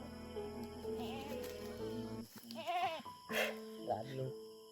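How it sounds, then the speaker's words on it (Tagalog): A goat bleats in a few wavering, quavering calls close by, with a faint steady hum underneath, in an outdoor setting in the Philippines. "Ito yung kambing na ano, tol."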